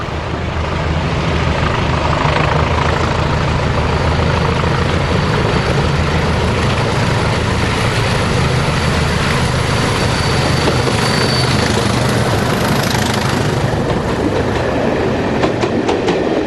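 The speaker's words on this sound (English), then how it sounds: "The Cumbrian Choppers Rail Tour passes Bamber Bridge on the penultimate day of 2005." British Rail Class 20 diesel locomotives on the Cumbrian Choppers rail tour pass Bamber Bridge, giving a loud, continuous engine roar and rumble with clattering wheels that fills the whole stretch without a break.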